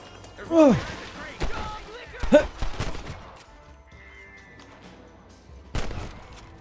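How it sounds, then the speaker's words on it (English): Revolver shots in the Western video game Red Dead Redemption: a few sharp, loud reports spread over several seconds, each with a short echoing tail, with a voice talking between them. "I'm using my pistol."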